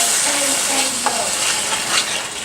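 Ground beef browning in a pan as it is stirred, with a steady sizzle and scraping and clinking strokes from a utensil, close and unaccompanied by talk.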